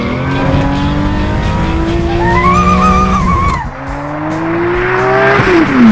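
A cartoon toy car sound effect plays loudly: a revving engine with rising pitch, a squealing tire skid, then more acceleration as the car speeds away, with no talking.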